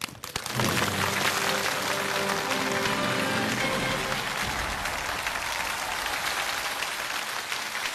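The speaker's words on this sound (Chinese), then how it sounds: "掌声有请周船长为我们开讲" An audience claps in a sustained, dense burst of applause welcoming Captain Zhou to the lecture podium, starting abruptly and holding loud for several seconds before thinning slightly toward the end.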